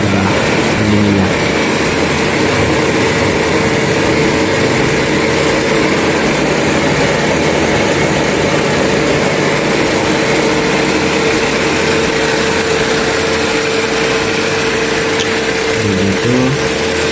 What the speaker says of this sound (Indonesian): Mesin skrup ini biasanya digunakan untuk suku cadang bervolume tinggi dan berbiaya rendah.